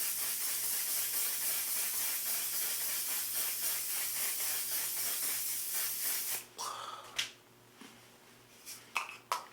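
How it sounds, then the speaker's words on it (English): One Size On 'Til Dawn mattifying waterproof setting spray pumped onto a face in a rapid series of close hissing spritzes, followed by a few quieter separate sprays and small handling sounds. "I'm gonna set my face with the One Size on Till Dawn mattifying waterproof setting spray"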